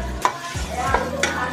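Yellow sweet potato sautés in a pan with a steady sizzle, broken by a few clattering scrapes and stirs of a utensil against the pan, close and clear.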